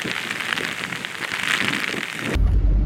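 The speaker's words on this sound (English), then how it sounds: "the rain is unrelenting" Heavy, unrelenting rain pours steadily on surfaces in a flood-hit area of North Windward, a dense constant hiss that grows louder near the end with a deep low rumble.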